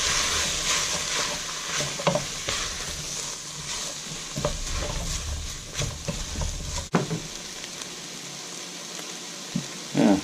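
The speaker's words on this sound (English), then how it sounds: "Give that a bit of a stir for a minute or two." Goat casserole ingredients stirred in a pot, a steady close scrape and shuffle of spoon against the pot over a soft background sizzle, with a few sharper knocks and a brief pause near the end.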